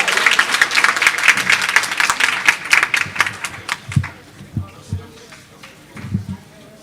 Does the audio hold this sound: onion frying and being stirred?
no